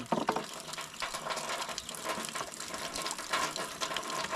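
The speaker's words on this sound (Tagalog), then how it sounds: "Ganito yung wala nang patayan ng tubig. Diretso na yan." Water flowing continuously from a pipe, a steady rushing gush that stays even throughout, fairly quiet and heard close by.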